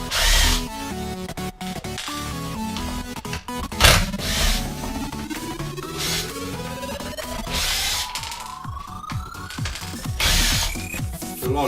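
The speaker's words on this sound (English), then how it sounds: "I'm going to be using a screw gun just because this one here." A power screw gun whirs and ratchets while removing screws from a Dyson DC25 vacuum, with repeated bursts, one long rising whine, and clicks of plastic parts between runs, no talking.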